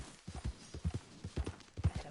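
A horse's hooves clip-clop at a steady trot in the video game Red Dead Redemption 2, close and clear as an even rhythmic patter of dull thuds with no talking.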